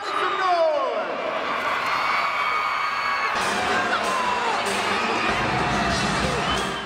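A crowd of about 2,000 young fans at a women's college basketball game in an indoor arena, a steady wash of high-pitched screaming and cheering that swells louder partway through and holds throughout.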